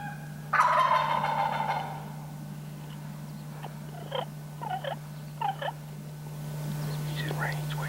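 A wild turkey gobbles loudly and close by in a rough, rattling burst, followed by softer clucks and putts while hunters wait nearby under a steady background hum.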